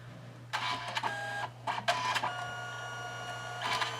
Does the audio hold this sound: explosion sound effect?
no